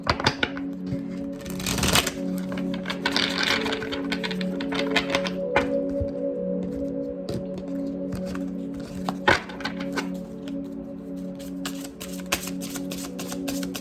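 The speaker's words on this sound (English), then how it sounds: "Do one more shuffle now." A thick deck of cards riffled and shuffled repeatedly at close range, with dense papery flutters and soft taps over a steady tonal hum in the background, without speech.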